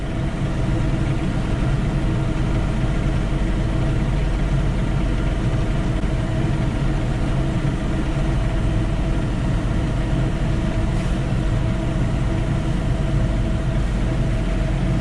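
A John Deere 3046R cab tractor idles at night while snow blowing, giving a steady, even low engine drone that stays constant throughout, with no voices.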